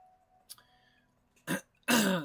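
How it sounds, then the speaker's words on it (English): A couple of short, sharp coughs close up in an otherwise quiet space, the last one louder and rougher. "Excuse me for being loud with that cough right there."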